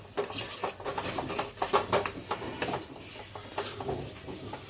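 A spoon scraping and clinking in a cooking pan while soya granules are mixed with tea-leaf water for a vegetarian keema, steady close stirring strokes with soft wet sloshing, no voices.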